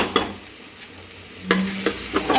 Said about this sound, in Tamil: இப்போ வந்து வெங்காயம் நல்லா வதங்கிடுச்சு.